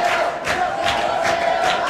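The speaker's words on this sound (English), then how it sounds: "Not sure which one of the fighters the youngsters are cheering for" Youngsters in the crowd at a world judo open championship arena cheer and shout in repeated bursts, a loud, echoing mass of voices that swells and falls.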